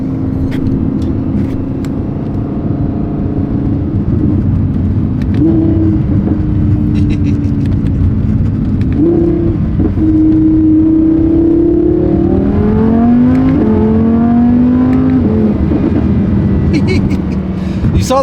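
A supercar engine that is not yet warmed up is revved hard, with rising and falling pitch sweeps over a steady loud rumble. It sounds close and dominant, and speech seems to come in around it.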